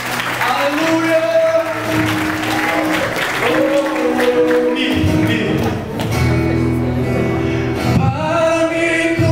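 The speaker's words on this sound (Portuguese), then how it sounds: "Aplaude o Senhor" Church congregation clapping steadily throughout, a dense crowd applause under a voice speaking and singing over it, with occasional thumps.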